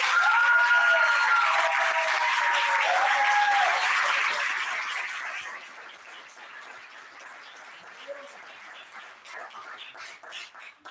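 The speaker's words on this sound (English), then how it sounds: "Let's give them another round of applause." An audience applauds the four finalists at the 2026 Washington State Poetry Out Loud final competition. Full, sustained clapping lasts about five seconds, then thins to lighter scattered claps that trail off.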